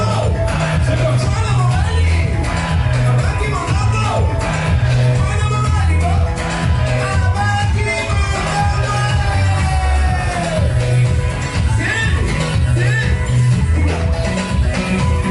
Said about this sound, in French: est-ce qu'on peut applaudir ces enfants?